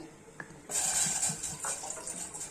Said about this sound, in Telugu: ఇదిగోండి, ఇన్ని వాటర్ పోస్తున్నాను